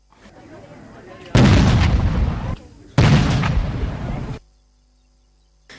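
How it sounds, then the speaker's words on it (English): Artillery booms in a 21-gun salute at an independence day ceremony on parliamentary grounds: two loud, close blasts, each with a long rumbling tail about a second apart, before the sound cuts to near silence. "A 21-gun salute was also accorded to the President."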